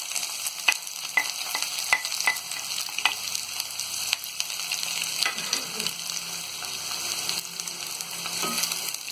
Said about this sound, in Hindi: अब इसमें हम ये प्याज को डाल देंगे